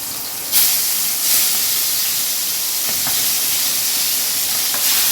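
Tangra fish frying in oil in a pan, a steady loud hiss and sizzle with brief bursts of spattering as the fish goes in, continuous throughout with no talking.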